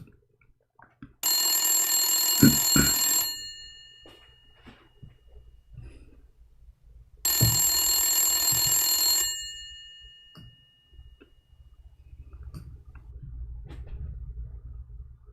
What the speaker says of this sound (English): If we call even Zakir Naik in his old phone number, I have his old phone, his hardline